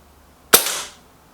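A single crisp crack from an airsoft sniper rifle, either a Lee Enfield or an Artemis M11, snaps out sharply and decays quickly on a quiet range.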